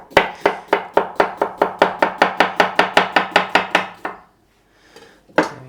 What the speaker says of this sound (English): Let's do some cucumber. So I need some slices for my sandwiches.